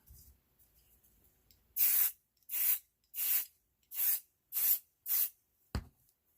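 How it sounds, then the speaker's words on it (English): An aerosol can of spray baste is sprayed onto fabric for a stand mixer cover in seven short, sharp hissing bursts with a brief final puff, each burst near and separated by silence. "This is just a spray base that I picked up here locally."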